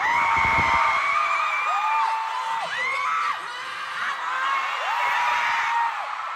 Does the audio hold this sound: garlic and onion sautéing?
no